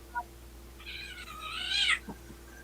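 A single drawn-out cat meow, rising and wavering for about a second, with a faint short chirp just before it, close and moderately loud against a quiet room.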